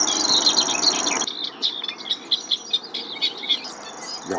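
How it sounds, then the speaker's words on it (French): A European robin calls during bird ringing, giving short, high chirps repeated in an irregular series. The bird sounds close and fairly loud, with an insect-like buzz in the background at the start. "Et voilà le petit rouge-gorge."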